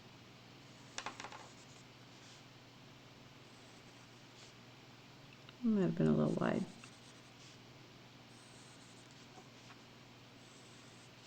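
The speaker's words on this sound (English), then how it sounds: "I'm going to draw my other one in pencil." A pencil scratches across paper in one short burst of drawing strokes near the middle, after a brief faint tap, while a voice speaks quietly.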